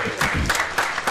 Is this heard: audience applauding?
yes